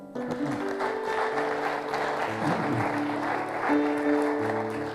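A church congregation applauds in praise, sustained clapping from a crowd carrying on throughout, with a held keyboard or organ chord sounding underneath.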